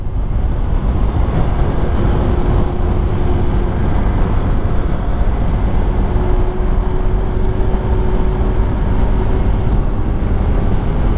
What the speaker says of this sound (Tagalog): Hirap na kumarangkada yung motor natin.